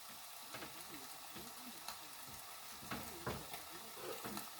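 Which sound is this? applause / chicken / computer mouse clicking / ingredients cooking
ingredients cooking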